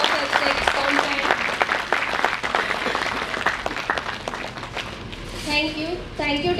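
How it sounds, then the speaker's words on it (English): Audience at an IEEE international conference inauguration ceremony applauds the unveiling of a book of ethics, a dense, steady round of clapping filling the room, with voices cutting in near the end. "Please give a big round of applause for unveiling of Book of Ethics content."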